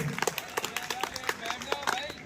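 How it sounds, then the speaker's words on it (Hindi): School audience giving a welcomed guest a burst of clapping, with dense, irregular hand claps close by throughout at a steady, lively pace. "तो एक बार जोरदार तालियों के साथ इनका स्वागत करेंगे"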